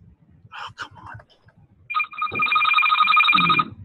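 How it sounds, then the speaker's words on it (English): A phone rings with an incoming call, a loud warbling electronic ringtone that starts after a few soft knocks and rustles and continues steadily near the end. "It's like a phone call."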